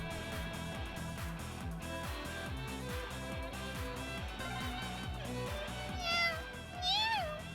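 A cat in the video game Trails of Cold Steel gives two short rising meows near the end, heard over constant looping game music.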